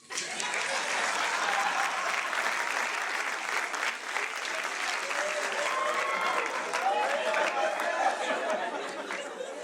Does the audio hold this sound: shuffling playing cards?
no